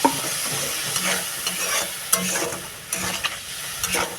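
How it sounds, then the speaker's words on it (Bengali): A spice paste of ginger, garlic, turmeric and cumin with a little water is sautéed in a pan, a moderate sizzle punctuated by repeated spatula scrapes and stirs. "ব্যাস এবার এটাকে সুন্দর করে কষিয়ে নিই"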